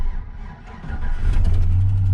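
A pickup truck engine cranks and catches, then settles into a steady, loud rumbling idle close by.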